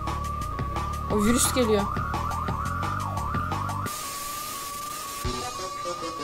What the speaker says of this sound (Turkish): Ama arkadaki siren sesi hiç yakışmadı be kanka.